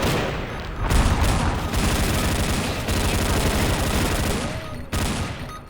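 Gunfire crackles in rapid bursts during an XSHOT video game match, with heavy, dense shots and a sharp blast near the end that fits a grenade going off, all loud and close.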